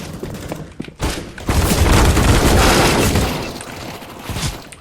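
Gunfire in Counter-Strike: Global Offensive, a dense, loud burst of rapid shots and booming reports that rolls on for several seconds up close, with no clear speech.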